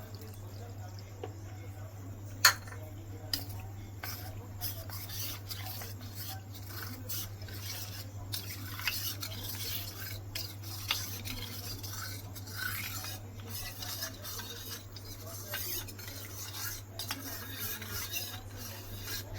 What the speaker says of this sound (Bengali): দুধ নিয়েছি, দুধ দিয়ে গুলে নেব।